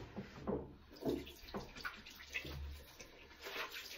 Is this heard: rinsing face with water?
yes